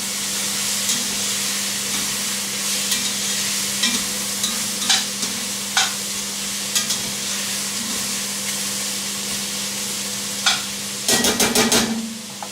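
Garlic frying in a pot for beef bourguignon gives a continuous sizzle under a low steady hum, with occasional spoon knocks and a burst of rapid clatter near the end.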